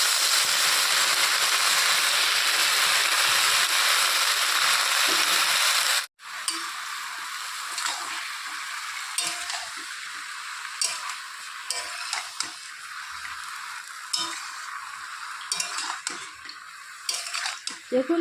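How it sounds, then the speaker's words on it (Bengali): Spinach tipped into a hot pan of frying aubergine and potato gives a loud, steady sizzle that cuts off abruptly, then returns as quieter crackling with scraping stirs and utensil clinks. "তো এখন আমি এর মধ্যে শাকগুলোকে ঢেলে দেব"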